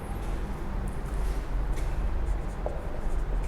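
Pen or marker scratching steadily across a board or paper while an accounts example on partners' ratios is written out, a continuous close scribbling texture with no talk.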